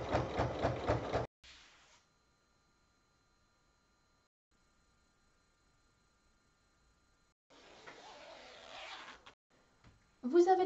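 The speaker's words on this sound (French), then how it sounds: "Et on va faire une surpiqûre." A sewing machine topstitching a baby sleeping bag runs in a short whirring burst after a quiet stretch, with talk at the start and at the end.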